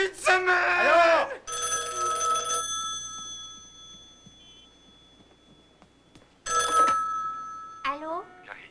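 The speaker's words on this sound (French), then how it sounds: "Grand-mère, c'est oncle Bob au téléphone." A telephone rings in a 1995 drama, two loud bursts of bright, warbling electronic ringing separated by a quiet pause, with a voice speaking at the start and end.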